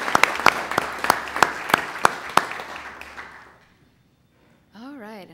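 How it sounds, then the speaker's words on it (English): A group at a transit board of commissioners meeting gives employees a round of applause: a burst of sharp, evenly spaced claps that thins out and fades to quiet over about three seconds, followed by a brief voice. "So if we could have a group round of applause for those employees."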